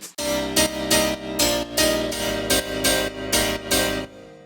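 A layered synthesizer patch with saw-wave layers stacked for added harmonics plays a series of bright, sustained chords in a steady pulsing rhythm, loud and alone, cutting off just before the end.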